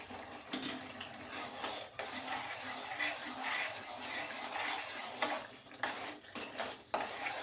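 Tomato gravy poured into ginger, garlic and chili paste sautéing in a pan for sev usal gives a soft, steady sizzle, with utensils scraping and stirring against the pan in a quiet kitchen.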